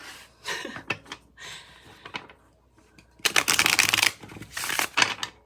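Tarot cards are shuffled close up in quick riffling bursts and flutters, louder toward the end, with no voices.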